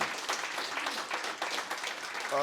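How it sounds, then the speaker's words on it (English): Audience applause at a church forum kicking off a giving tree event, a steady wash of clapping from a room of people lasting throughout, moderately loud, with a hint of a voice at the very end. "let's give all the organizations that are being considered today a round of applause"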